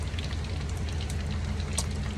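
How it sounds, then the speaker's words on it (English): Heavy rain falls outside a home during Hurricane Ian, a dense, steady hiss of drops drumming on surfaces with no gaps and no voices. "All the rain, all the flooding."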